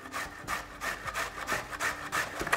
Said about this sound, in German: ich nehme hier die grobe Reibe, also nicht die feine, sondern wirklich grob reiben